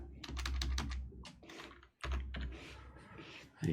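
Fingers type on a computer keyboard in quick bursts of close, crisp keystrokes, pausing briefly midway before tapping resumes; no one speaks.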